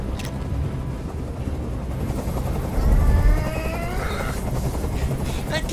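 Helicopter rotor noise in a hostage standoff in the video game Detroit: Become Human, a continuous loud throbbing drone hovering overhead with a brief swell midway, steady throughout.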